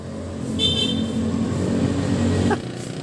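A motorcycle passes on a road while a rider practices on a Honda Click 125 scooter. The engine hum swells and fades over about three seconds, and a short high tone rises near the end.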